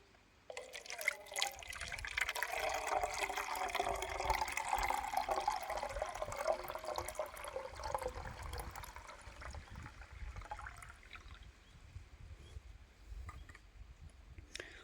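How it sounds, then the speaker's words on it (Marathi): Water is poured slowly into a container set out for birds in a forest: a soft, continuous trickle and gurgle that runs for about ten seconds, then thins out under quiet outdoor background. "त्याच्यामध्ये आपण पाणी टाकू"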